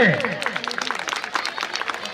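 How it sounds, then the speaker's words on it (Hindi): An audience at an honour ceremony claps in a dense, sustained burst of applause, with a voice briefly audible at the start. "जोरदार ताली तो बजा लीजिए"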